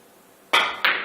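Two crisp clicks of a pool cue striking a billiard ball on a table, a sharp hit followed a third of a second later by a second clack, close and fairly loud against quiet room tone.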